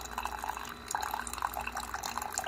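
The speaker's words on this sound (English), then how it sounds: "You can see the water's nice and brown, so you know that it's going through the coffee grounds and pouring through the coffee here." Coffee dripping from a Sboly drip coffee maker into a mug, a light irregular trickle and patter of liquid with small splashes, close and fairly quiet.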